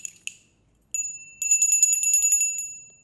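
A bright bell rings in a quick ding, falls silent, then chimes again in a rapid run of repeated metallic strikes, loud and close with no talking.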